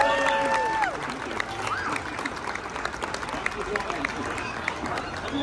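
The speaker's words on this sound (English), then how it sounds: "please also give me a round of applause for Morris and Jared" A crowd at a Disney Imagineering presentation on the BDX droids at the D23 Expo applauds the presenters with sustained clapping and some cheering, which starts loud under a few musical tones and then carries on steadily.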